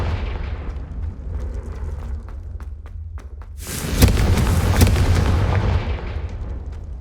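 A Confringo blasting spell goes off in Hogwarts Legacy: a sudden loud, broad burst about midway that rolls on as a sustained roaring blast with sharp cracks, over a constant low game rumble.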